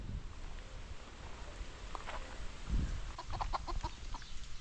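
A hen clucking outdoors on Gran Canaria, a string of short, near clucks and throaty calls that grow busier toward the end over a low wind-like background.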